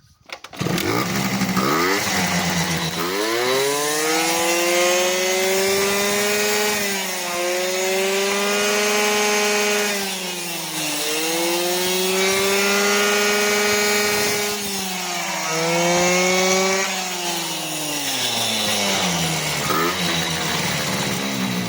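A Honda Dio scooter engine running on a Chinese ignition module starts up and idles loudly and close, rising and falling in revs as it is blipped several times.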